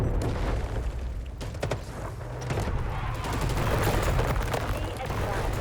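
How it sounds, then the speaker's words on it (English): Grenade launcher blast in a video game battle: a loud, dense rumble of booms and rapid gunfire that rolls on without a break, with heavy low-end thuds throughout. "Grenade launched!"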